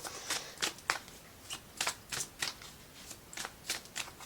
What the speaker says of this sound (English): I'll pull some of these dragon cards just because they're cute.